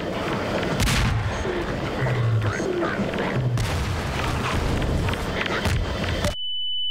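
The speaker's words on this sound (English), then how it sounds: "Throw a grenade at me." Loud, dense game combat from Half-Life 2, with repeated heavy booms and blasts that fit grenade explosions, packed closely over several seconds before the sound cuts off abruptly.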